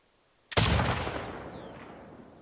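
A single sharp rifle shot in The Last of Us Part II cracks out loud and close, then trails off in a long fading echo.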